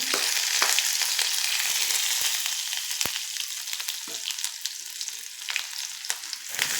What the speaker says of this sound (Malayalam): എണ്ണ ചൂടായിട്ടുണ്ട് കടുകിട്ട് കൊടുക്കാം നമുക്ക് വെളുത്തുള്ളി ഇഞ്ചി